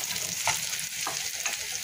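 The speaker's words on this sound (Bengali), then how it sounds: "এখন কড়াইতে পেঁয়াজ, তেল দিয়ে পেঁয়াজ ভেজে নিচ্ছি।" Onions frying in oil in a wok, a steady close sizzle with a few brief stirring scrapes, no voices.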